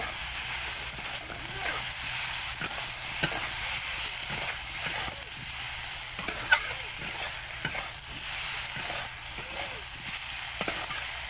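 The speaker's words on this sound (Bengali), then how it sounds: "তারপরে আমি এই মশলাটাকে সব ভালো করে কষিয়ে নেব।" Spices with turmeric powder being stir-fried in a pan for an aloo soybean dish, a steady close sizzle with repeated scraping strokes of the spoon throughout.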